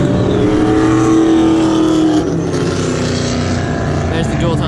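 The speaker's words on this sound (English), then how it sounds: "There's the dual tone Supra going the other way" A Toyota Supra with a dual-tone exhaust drives past at a supercar show, a loud steady engine drone with a shifting pitch, heard together with crowd noise and nearby chatter.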